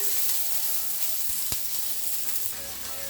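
Garlic, onion and pepper fry in a pan over low heat with a steady, close sizzle. Occasional stirring taps and one sharp clink break through it. No one speaks.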